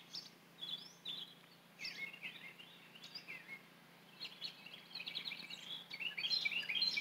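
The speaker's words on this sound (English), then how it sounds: "Just listen the birds singing" Several birds sing and chirp in bright, overlapping phrases against a quiet background, growing busier and louder toward the end.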